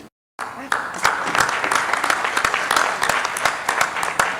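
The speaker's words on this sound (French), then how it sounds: "Applaudissez-vous." A conference audience applauds at the closing session of a digital transformation event, a dense, steady clatter of many hands after a brief silence, with voices mixed in.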